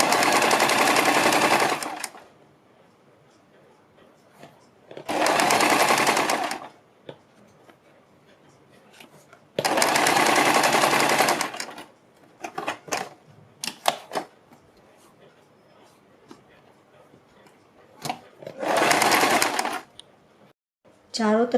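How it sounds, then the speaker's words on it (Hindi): A sewing machine stitches along the folded neckline edge of a suit or kurti, running in four loud bursts of about two seconds each, with quieter clicks and handling noises in the pauses between them. "इसके बाद हम इसको इस तरह से फोल्ड करते हुए किनारे से थोड़ा सा हट के इसके ऊपर एक सिलाई लगाएंगे"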